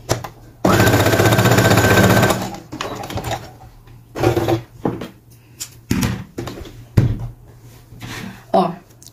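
A sewing machine stitches the collar of a child's priest-collar shirt in one loud, steady run lasting about a second and a half, followed by scattered clunks and fabric-handling knocks.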